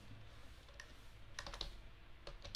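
Keys on a computer keyboard are tapped during a Bootstrap web-coding lecture: sparse, faint clicks spread unevenly over a quiet room tone, with no voices.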